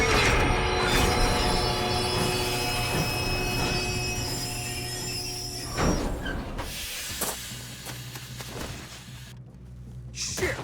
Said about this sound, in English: We have to stop this train.